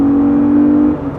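A Honda NSX engine holds a steady, loud drone while driving, a sustained hum from inside the car that eases off near the end, with no voices.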